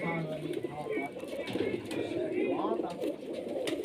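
A female racing pigeon coos softly in repeated low, throaty phrases, heard beneath someone talking nearby.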